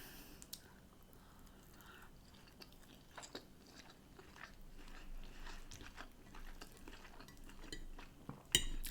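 Battered cod and fish and chips being eaten at close range, with soft bites, chewing and occasional cutlery clinks against a plate, ending in a sharper clatter.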